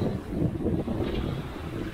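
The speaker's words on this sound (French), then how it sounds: "On a un vent qui est de travers à nous" Steady wind roars across the microphone aboard a sailboat at sea on a crosswind passage toward Guadeloupe, a dense continuous buffeting with no voices.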